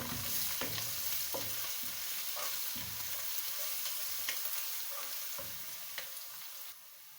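Garlic sizzles and fries with browned onions in a pan, a steady broadband hiss with scattered stirring clicks and scrapes, close and alone without talk.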